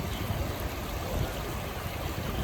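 A river stream flows steadily with a continuous low rushing wash, constant and moderately faint, with no talk over it.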